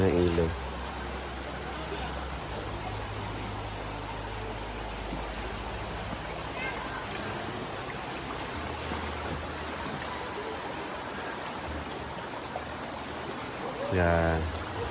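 A river flowing steadily at a riverside spot where guests had been bathing, heard as a constant broad rush of water that fills the whole stretch, with brief faint voices near the start and end.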